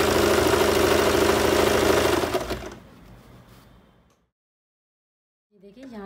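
A sewing machine stitches fabric for palazzo trousers, running loud and steady for about two seconds, then slowing and stopping, followed by quiet and a faint rustle of handling.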